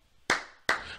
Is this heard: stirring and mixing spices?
no